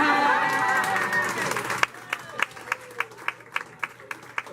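At a welcome home celebration in Detroit, a crowd applauds with dense clapping and some cheering and chatter, then the crowd noise drops away and rhythmic, evenly spaced claps continue.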